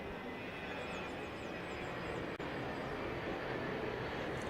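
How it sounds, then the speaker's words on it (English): A departing airplane climbs out of Piarco International Airport, its steady engine roar loud and continuous over an open-air football match ground. "airplane just leaving the Piarco International Airport"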